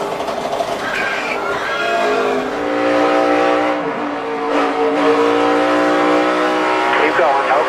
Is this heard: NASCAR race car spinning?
yes